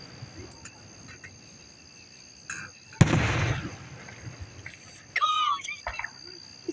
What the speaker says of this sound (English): fireworks right there